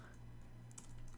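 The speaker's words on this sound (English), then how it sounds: "Try typing good morning," Quiet keystrokes on a computer keyboard, a few faint taps over a steady electrical hum.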